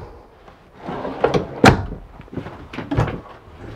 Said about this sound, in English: Full extension drawer.